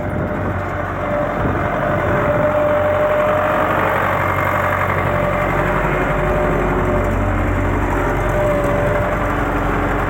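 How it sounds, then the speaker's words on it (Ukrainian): A tractor engine runs steadily on autopilot while pulling a KPS cultivator uphill across a field, its low continuous drone holding even and loud throughout with no talk over it. "Трактор йде на автопілоті, КПС-ка, під гору димучка."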